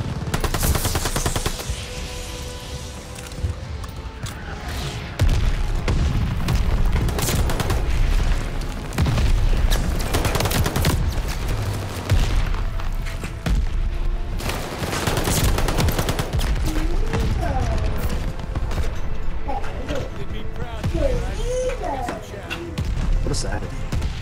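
Gunfire and heavy explosions from a bomb-run killstreak in Call of Duty: Vanguard, a dense barrage of booms and rapid shots filling a long stretch, with voices talking over the action.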